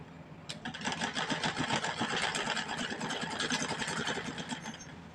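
A sewing machine stitches a folded sleeve onto a simple kurti, running in a fast, steady mechanical rattle with a rapid regular needle pulse, close and alone.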